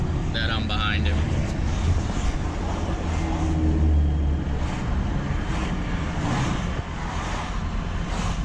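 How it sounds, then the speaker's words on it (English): A 1966 Oldsmobile Toronado drives past with a steady, low engine rumble that holds at an even level throughout, mixed with some wind noise and background sound. "The car does sound great there, Jonathan."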